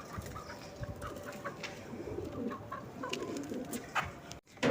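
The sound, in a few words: chickens clucking in coop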